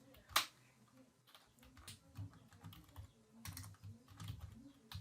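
Fingers type on a computer keyboard, quiet irregular clicks and taps in short bursts, close but faint.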